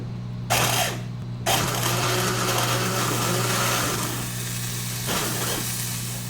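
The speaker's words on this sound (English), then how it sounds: "This is the immersion blender." An immersion blender whirs steadily in a kitchen, a loud continuous motor drone with brief bursts as it starts up, no one talking.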